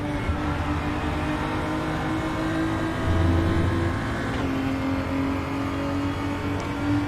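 Race car engine in RaceRoom racing, a loud, close, sustained drone that shifts pitch as it accelerates and brakes through a chicane, alone with no talk.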